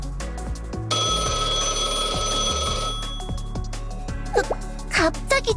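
Phone ringing in a Blue Archive game story scene, a trilling electronic bell tone held for about two seconds amid background music and chiming notes, followed by a short spoken line.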